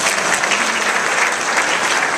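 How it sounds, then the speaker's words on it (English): Wedding guests clap for the groom's parents during a best man speech, a dense and loud burst of applause from the whole room. "Give them a round of applause, please."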